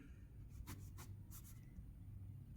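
A geometry solution is written out by hand during a Class 9 circles lesson, giving faint, brief scratchy strokes in a few short bursts over a quiet room hum.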